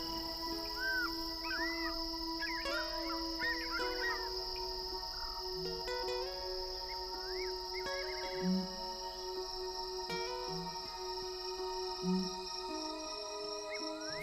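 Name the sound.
fishing owls' booming calls at sunset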